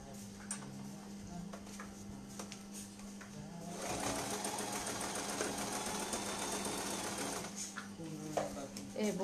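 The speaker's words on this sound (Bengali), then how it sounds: "এটার সাথে ধরে এটাকে সেলাই দিতে হবে" A sewing machine stitches fabric for a baby frock. Short bursts give way to a steady, close run of rapid mechanical clatter for several seconds, then stop and start again, with a voice speaking quietly at times.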